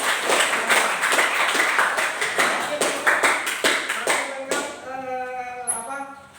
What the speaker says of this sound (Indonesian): Iya, beri tepuk tangan yang meriah.